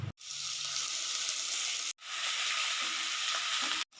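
Onion and mustard paste frying in hot oil, a loud steady sizzle that runs almost without pause, broken by two brief gaps.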